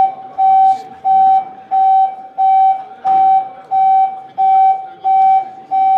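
A building alarm repeats loud, steady electronic beeps in an even pulsing rhythm, about eight tones over several seconds, with faint background noise and no talk.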